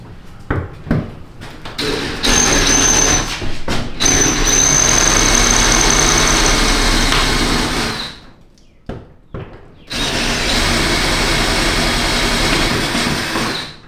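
A power drill drills out rivets on a box truck roll door, whining loudly and steadily, cutting out briefly with clanks and clicks before spinning up again for another long, grinding run.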